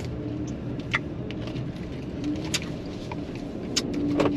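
A car drives toward a shopping center, giving a steady low road rumble and engine hum throughout, with a few faint clicks and rattles inside the cabin and no one speaking.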